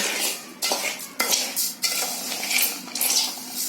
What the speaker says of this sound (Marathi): अजून 2 मिनिटं भाजते जरा